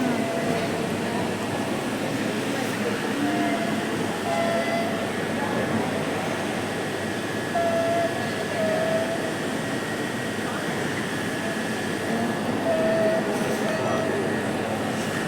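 Train arriving at London Victoria station, with the steam locomotive Clan Line, a Merchant Navy class, nearby: a steady low rumble and hum of rolling stock that holds even throughout, with faint squeals now and then.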